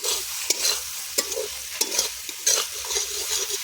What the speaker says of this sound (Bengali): একদম দারুণভাবে কষানো চলছে।